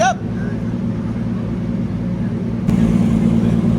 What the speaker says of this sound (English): you notice how much faster the engine is, how much faster the turbo is just pulling up on the new engine